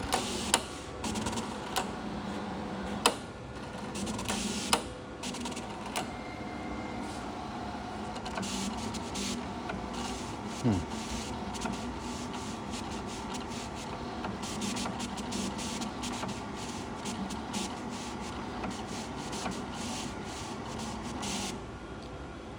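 A Graphtech vinyl cutting plotter runs its cut with a steady mechanical whir and buzz. Rapid ticking and carriage movement run through it, with occasional sharper clicks, heard close and continuous with no voices.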